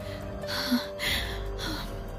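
A young woman gasps and pants in panic, a few breathy, uneven breaths coming close and fairly soft against a quiet room, with no talking.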